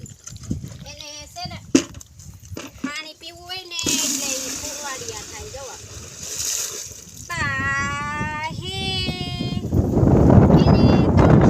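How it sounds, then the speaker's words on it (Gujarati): Domestic buffaloes on a farm call out repeatedly at midday watering time with loud, drawn-out bleating bellows, some near and some farther off, amid splashing water and voices talking. "અમારા ભેંસ છે ને બહુ બોલી છે"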